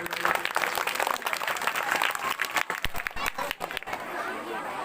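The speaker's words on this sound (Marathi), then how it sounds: "एकदा या तिघही शिक्षकांसाठी आपण जोरदार टाळ्या वाजवूयात" Audience at a village school cultural program in Maharashtra clapping for three teachers, a dense, steady wash of applause with crowd murmur running throughout at moderate loudness.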